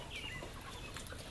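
Chickens clucking on a pasture-raised poultry farm, a faint, steady chorus of scattered bird calls over continuous background noise with no nearby talk.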